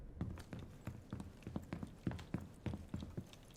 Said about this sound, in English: So that was footsteps on with hi-fi and 55 volume.